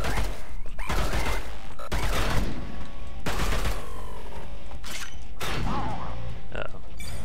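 Automated turrets fire in the shooter game Bunker Punks: loud, repeated bursts of rapid gunfire with sharp mechanical impacts, several separate volleys close by.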